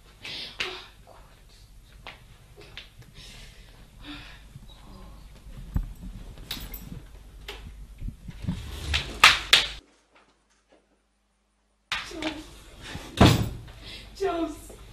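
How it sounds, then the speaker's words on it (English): Door being forced open during a tense confrontation in a drama scene, with banging and slamming impacts building toward loud hits, a brief silent gap, then another sharp slam, while voices talk and plead throughout. "Open the door or I'll open it"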